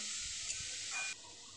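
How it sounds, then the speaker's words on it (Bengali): Grated cauliflower dropped into hot oil with fried cumin, a steady bright sizzle that hisses loudly and then drops to a softer frying crackle partway through. "জিরেটা ভাজা হয়ে গেলে পর ভালোভাবে তারপর যে ফুলকপিগুলো আমি গ্রেট করে রেখেছি সেটা পুরোটা দিয়ে দিলাম।"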